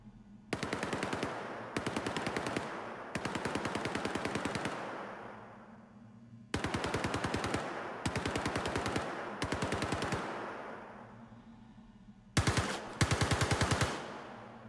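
Automatic weapon fire from the Star Citizen video game heard at varying distances: several rapid bursts separated by short gaps, each a dense rattling volley with decaying echo, the final bursts louder and closer.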